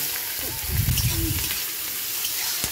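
Onions sizzling in hot oil with bay leaf and spices, a soft steady frying hiss with a brief louder burst as they are stirred, while a voice talks over it.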